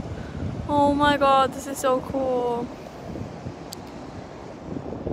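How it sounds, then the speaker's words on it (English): Surf at Daytona Beach, Florida, a steady broadband wash of waves mixed with wind buffeting the microphone, while a person speaks excitedly over it. "Look at the waves."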